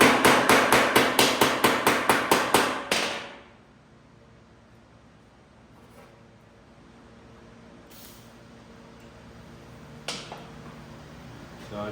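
A rapid burst of about a dozen sharp metallic hammer blows shaping a radius in sheet metal for a custom car wheel tub, then quiet with a few isolated clanks.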